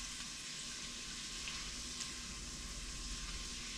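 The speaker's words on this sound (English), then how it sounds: "I'm melting the butter with the shallots" Butter and shallots melting together in a hot pan, giving a steady, even sizzle that holds at a moderate level throughout with no talking.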